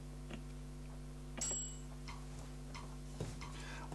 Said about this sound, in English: I'm going to put a click track on